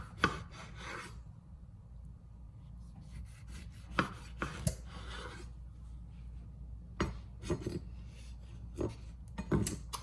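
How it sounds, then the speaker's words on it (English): Knife chopping a thinly sliced tomato on a cutting board, a scattering of sharp, quiet taps with irregular gaps between them and one short rubbing scrape near the start. "So first I'm going to start off by slicing this tomato, and then I'm just going to chop it up"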